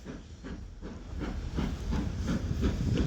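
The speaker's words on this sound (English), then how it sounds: "Got a steam train there. I can see the smoke, and we've got the choo-choo, the famous choo-choo." A steam locomotive passes at Didcot Parkway, its broad rumbling roar pulsing with steady rhythmic chuffs that grow gradually louder, with no voices.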